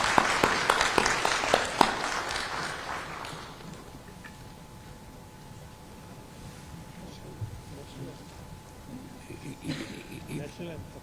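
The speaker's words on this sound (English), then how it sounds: "please join me in giving one more huge round of applause to the Vice President of India, Shri Jagdeep" Audience applauding the Vice President of India at an international arbitration colloquium: dense, loud clapping for about three seconds, then fading into a quieter room murmur with scattered faint claps near the end.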